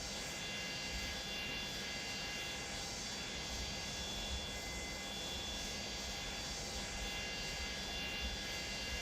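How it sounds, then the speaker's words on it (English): Steady cockpit drone of a Boeing 727-200 freighter's APU and rear engines in a flight simulator game, a constant broadband hum with faint high tones, continuous and even throughout with no talking. "So the APU is actually louder than the engines because it's further forward to the cockpit."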